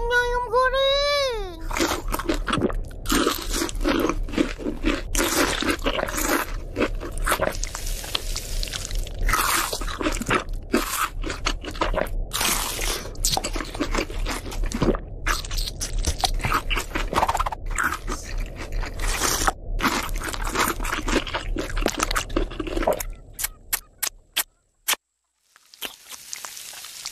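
Close, loud crunching of crispy fried chicken being chewed, in irregular bursts of bites that continue steadily, then taper off into scattered crackles and silence.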